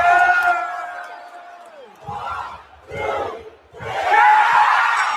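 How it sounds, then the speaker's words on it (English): Wrestling arena crowd roaring and cheering wildly in loud surging waves, with whoops and shouts swelling three times after a sustained held yell at the start. "Crowd going nuts."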